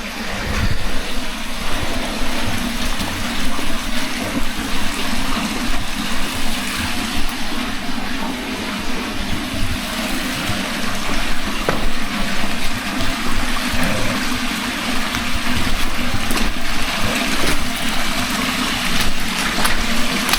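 Water flows steadily from a spring outlet at an outdoor site, a continuous close rushing and gurgling wash that stays even throughout, with no voices over it.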